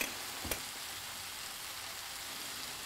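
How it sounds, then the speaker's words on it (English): Onions cook in butter in a pan on the stove, giving a faint, steady sizzle with one brief clink of a utensil as they are stirred. "we'll just gently stir to get that butter mixed in there with the onions"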